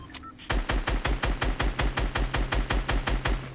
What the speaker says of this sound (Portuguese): Os caras estão atirando nele.